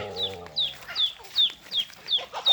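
Free-range backyard chickens fed on unhusked rice give a run of evenly spaced, sharp clucks close by, after a brief low sound at the start.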